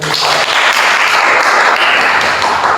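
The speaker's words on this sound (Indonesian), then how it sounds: "Kita berikan tepuk tangan sekali." Applause from a small group at a group counseling session, loud, dense and steady clapping filling the whole moment without a break.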